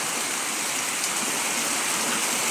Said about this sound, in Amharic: ዝናብ ሲዘንብ እንደዚህ